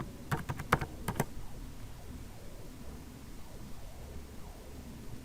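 A password being typed on a computer keyboard: a quick burst of about six crisp key clicks in the first second, then only faint background hiss and soft rustling.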